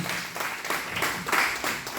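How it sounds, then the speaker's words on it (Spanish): A church congregation applauds together, a short stretch of moderate clapping that swells in soft waves, with no talk over it. "Dale una ofrenda de palmas al Señor."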